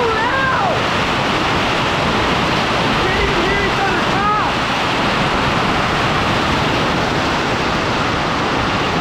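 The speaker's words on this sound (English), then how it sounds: "This is ridiculous. There's hail" Hail and heavy rain pound down in a dense, constant roar during a sudden storm over a farm yard, loud and unbroken, with a few faint birdlike chirps in the first seconds.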